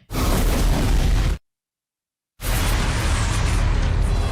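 Photon torpedo explosions from Star Trek: The Motion Picture: a loud, roaring blast cuts off into a second of dead silence, then a second sustained rumbling burst follows.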